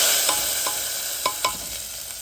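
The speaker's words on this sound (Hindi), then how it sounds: "डाला रेड चिली पाउडर और 1-2 सेकंड के लिए उसको स्टर किया ताकि चिली पाउडर जल ना जाए" A spoon stirs red chili powder into hot garlic oil tadka with the gas off, giving a steady sizzle and frying hiss broken by a few sharp scraping clicks, heard alone.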